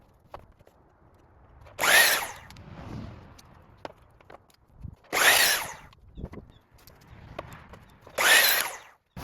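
A power saw cuts through three wooden ramp balusters at once, three separate loud, short whining cuts spaced a few seconds apart, close by, with quiet clatter between them and no talking.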